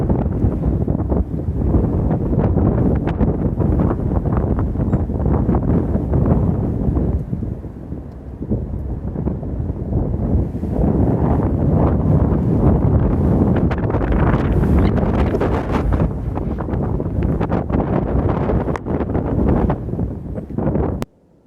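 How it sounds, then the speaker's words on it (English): Strong gusting wind roars across a mountain ridge trail near Hot Springs, Tennessee, battering the microphone in loud, continuous blasts that dip briefly before surging again. "The wind is just crazy."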